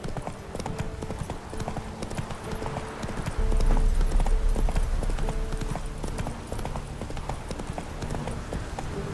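Roach the horse gallops hard in The Witcher 3: Wild Hunt, a fast, continuous clip-clop of hooves up close that swells louder midway, over a constant game ambience and a faint snort.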